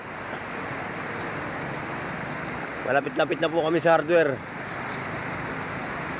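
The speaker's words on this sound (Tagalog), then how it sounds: "Kamader, inabot na po kami ng ulan" Steady rain hisses throughout, a constant wash of noise with someone talking briefly in the middle.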